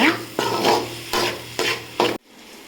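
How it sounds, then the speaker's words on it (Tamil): Vegetables with masala powder sauté for egg Maggi, four loud scraping stirs over a close sizzle, then the sound cuts off abruptly into near silence. "இதெல்லாம் சேர்த்து நல்லா வதக்கிக்கோங்க மசாலா தூளையும் ஆட் பண்ணிவிட்டு நல்லா வதக்கிக்கோங்க"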